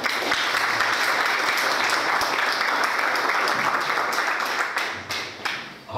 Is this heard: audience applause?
yes